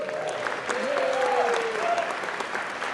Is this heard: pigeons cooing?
no